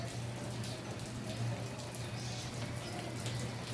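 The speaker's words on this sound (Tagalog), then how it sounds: "Yan, tumapatak pa ang ulan." Rain dripping and pattering steadily outdoors after a hot spell, faint and continuous with scattered small drops over a low hum, no voices.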